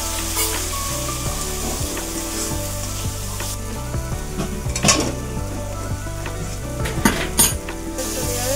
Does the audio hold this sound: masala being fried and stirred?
yes